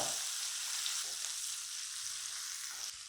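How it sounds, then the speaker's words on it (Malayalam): Two onions sautéing in hot oil in a pan, a steady close sizzle with broadband hiss running unbroken and evenly loud throughout, no voices. "എടുത്തു വെച്ച ആ രണ്ട് സവാള ഏകദേശം ഒരു മിനിറ്റോളം നമുക്കൊന്ന് വഴറ്റിയെടുക്കാം"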